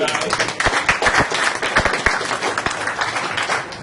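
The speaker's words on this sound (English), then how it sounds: "Give him a round of applause." Scattered hand claps from a small group, a quick burst of uneven clapping that stays steady and fairly close for a few seconds.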